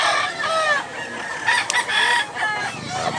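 A rooster crows at a rooster market in Cebu, a clear drawn-out cock-a-doodle-doo repeated over steady background clucking from other fowl close by, with no talk.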